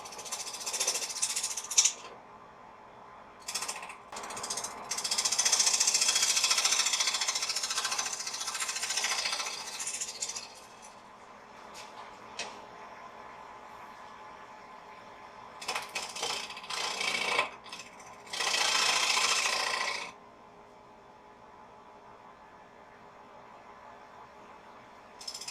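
A wood lathe turns a live edge bowl, with bursts of loud scraping and cutting noise between quieter spells of spinning hum and a few sharp knocks.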